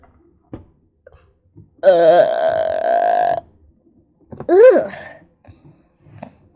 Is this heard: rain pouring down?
no